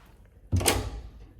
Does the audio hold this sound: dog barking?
no